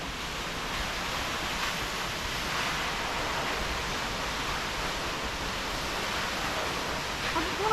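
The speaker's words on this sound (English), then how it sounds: "So there's the waterfall." Rawson Falls in New South Wales roars as a constant broadband rush of falling water, loud and unbroken throughout, heard up close with no pause.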